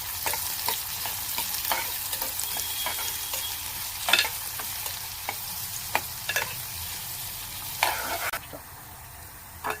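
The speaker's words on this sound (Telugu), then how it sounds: "ముందుగా కట్ చేసి పెట్టుకున్న ఆనియన్స్ వేసేద్దాం ఆనియన్స్ కొంచెం బ్రౌనిష్ కలర్లో వచ్చేదాకా" Chopped onions fry in a pan until brownish for a ridge gourd and moong dal curry. A steady sizzle runs throughout, with repeated clinks and scrapes as a spoon stirs them, and the sound eases slightly near the end.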